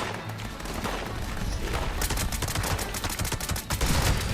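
Rapid automatic sniper rifle fire in Fallout 76, a dense, loud burst of gunshots rattling continuously for several seconds with game effects layered underneath.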